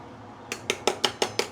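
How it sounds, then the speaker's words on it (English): A metal sieve clinks sharply against a pot while skimming scum off fish soup, six quick bright taps in a steady rhythm after a moment of quiet, close and fairly loud, with no talking. "We can use a sieve to remove the scums should you see any, yeah?"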